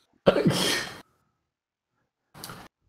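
A single sharp sneeze bursts out close by, followed after a pause by a short breathy exhale or sniff.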